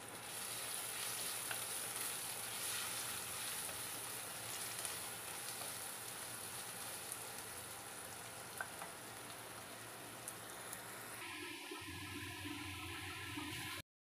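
Chopped onions sautéing in oil for a Tamil brinjal kara kuzhambu, a steady close sizzle and crackle running throughout, with a brief stirring shift near the end.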